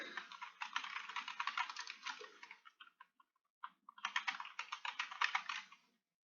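Computer keyboard typing in quick bursts of close, crisp key clicks, with a short pause near the middle before the typing resumes; no voices.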